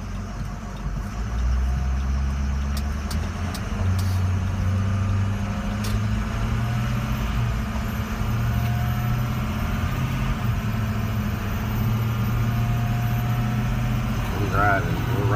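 A 2006 diesel truck with a glow plug fault cruises down the road, its engine a steady low rumble under constant road and wind noise, heard from inside the cab while someone talks.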